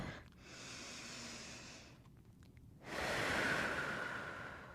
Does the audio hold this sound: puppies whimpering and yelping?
no